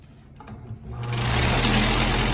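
Maxx Air wall fan switched on at its low setting, a loud, close, steady whoosh of air that rises within a second and then holds, with no talk.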